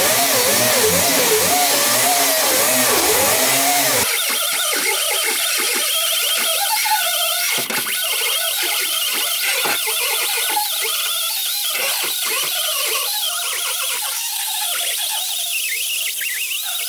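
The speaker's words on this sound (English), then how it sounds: "Now we're gonna clean those spot welds nice and flat on that flange. And it just so happens that this grinder with our backer pad fits in there perfect." A grinder fitted with a backer pad flattens spot welds on a flange during a big-window cab conversion on a 1960-66 GMC/C10 pickup, giving a loud, continuous high-pitched whine that wavers in pitch as the load changes.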